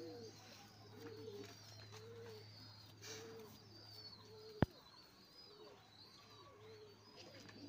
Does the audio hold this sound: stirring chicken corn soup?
no